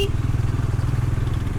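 Bajaj Dominar 400 motorcycle engine running close by after a service, a rapid, even low thumping pulse held steady throughout.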